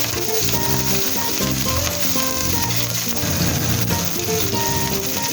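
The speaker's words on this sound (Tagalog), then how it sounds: "igisa na po natin ang ating sibuyas" Onion sautéing in hot oil in a pan, with galunggong already fried, gives a loud, steady sizzle that runs throughout, backed by a continuous tonal hum and the occasional clink of a utensil.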